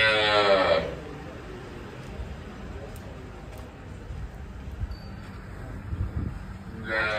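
A cow and her calf mooing at a village cow shelter, with long, loud lowing calls at the start and end and quieter shuffling and background sounds in between.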